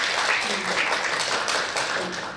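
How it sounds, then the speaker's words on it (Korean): Audience applause at a Korean committee's first-anniversary forum on inequality and employment: a moderate, even patter of many hands clapping at middling distance, with some voices mixed underneath. "문성열 위원장님께 다시 한번 큰 박수 부탁드립니다."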